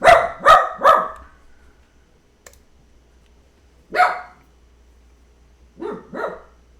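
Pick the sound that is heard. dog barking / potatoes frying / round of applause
dog barking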